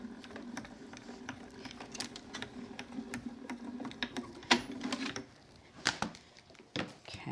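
A tabletop embossing machine cranks a taped embossing sandwich through its rollers for faux leather crafting, giving a steady low grinding rumble with scattered clicks and creaks, then a few louder knocks as the plates emerge, with no voices.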